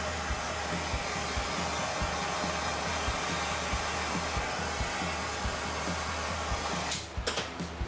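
A heat tool blows steadily on the stuck throttle slide of a 1964 Honda Benly 150 motorcycle held in a vise, a constant airy hum with a faint regular ticking, broken by a few knocks at the end.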